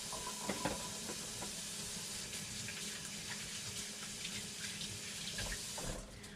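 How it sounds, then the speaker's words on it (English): Hands being washed under a running kitchen tap while tartar sauce for tuna cakes is prepared: a continuous, moderately close splash of flowing water over a sink with a faint sizzle behind it, no talking. "First wash my hands here."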